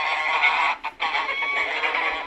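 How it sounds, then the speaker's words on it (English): Geese honk loudly in a dense, continuous chorus, with a brief dip partway through before the clamour resumes. "No, not the geese! Anything but the geese!"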